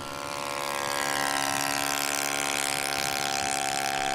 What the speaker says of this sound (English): These models are 120 4-stroke powered and are beautifully stable.